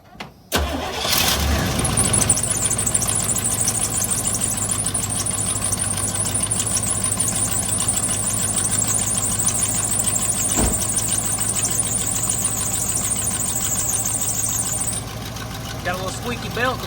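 A pickup truck bought for sawmill work, just after an oil change, cranks and starts, with a loose belt squealing loudly and steadily over the running engine for most of the run before it fades and the engine settles to idle.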